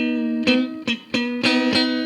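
An electric guitar is played in a tone with a sustained chord, and a string bend pulls a note slightly out of tune. Five sharp, evenly spaced picked attacks ring over a steady, buzzing, harmonically rich sustain.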